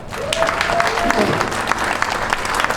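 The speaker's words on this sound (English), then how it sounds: "can I get a hand clap on that?" Audience applause at a Juneteenth jazz heritage festival: dense, steady hand clapping from a crowd, fairly loud and continuous throughout, with a faint voice briefly audible early on.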